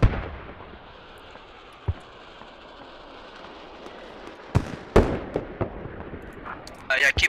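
Mortar and artillery fire in the military shooter game Squad, sporadic sharp distant booms and bursts, a few isolated thumps then a cluster near the end, with people talking in between.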